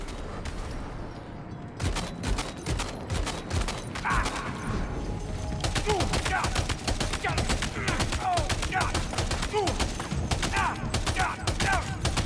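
Rapid bursts of gunfire crackle through a firefight in Death Stranding 2, with dense repeated shots and automatic volleys stacking over a steady game soundscape, while voices speak underneath.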